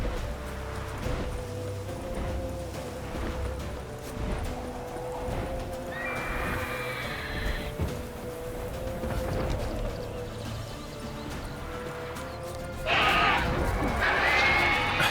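Horse in The Witcher 3 neighing and galloping, rhythmic hoof clip-clops under game music with a couple of loud whinnies; someone talks over parts of it.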